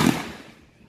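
A single sharp gunshot cracks out at an outdoor shooting range in Liuying, Tainan, Taiwan, then rings off into a fading echo; loud and fairly close, with no speech.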